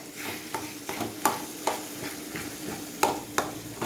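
Mutton blood fry is stirred in a pan with a ladle, soft sizzling under a series of distinct spoon knocks and scrapes recurring roughly every half second, close and moderately loud.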